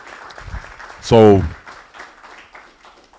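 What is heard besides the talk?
audience applause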